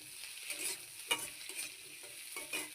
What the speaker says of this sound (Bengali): তো কুচিয়ে নিয়ে সব একসঙ্গে করে ভেজে নিচ্ছি